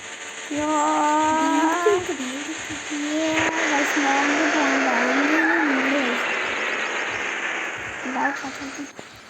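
A car drives and skids in the video game Dude Theft Wars, its engine note rising and wavering with a loud tire squeal, continuous and close throughout, with game effects layered over it.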